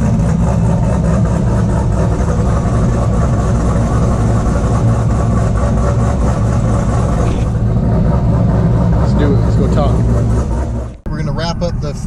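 A 2016 Camaro with a built 850-horsepower engine idles loud and close in a constant throbbing rumble, with speech over it, before cutting off abruptly near the end.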